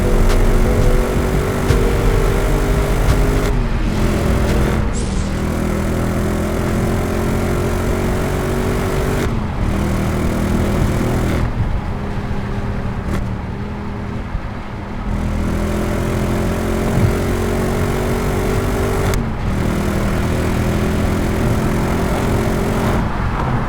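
An Audi S4 cruising on the motorway gives a continuous engine drone and road roar, steady and loud from start to finish, with no talking.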